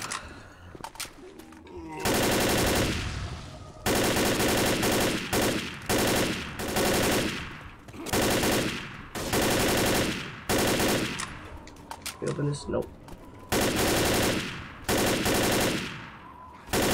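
Gunfire in the video game Left 4 Dead: loud sustained automatic bursts broken by short pauses, with brief quieter gaps between volleys and faint voices early on.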